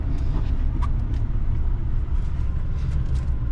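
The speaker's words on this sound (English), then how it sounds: "I do like these new diesels. You can barely hear them. It sounds almost like I'm driving a gas vehicle." A Chevrolet diesel engine hums as a low, steady rumble from inside the cab during a test drive at an auto show. It stays loud and constant, with no voices.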